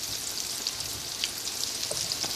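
Flour-dredged turkey wings fry in hot oil in a pan, giving a steady, close crackling sizzle with scattered pops and spits throughout.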